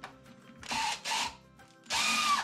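Power drill driving inch-and-a-half screws through a workbench drawer front: three short whirring bursts, the last longest, close and loud with brief gaps between, and no talking.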